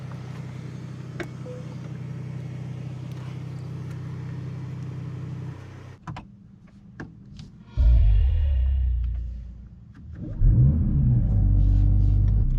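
A 2024 Mercedes-AMG GLC 63 S E Performance, a 650-horsepower 2.0-liter four-cylinder P3 hybrid, idles with a low exhaust rumble, then gives two loud revs that swell and fade, close by with no talking.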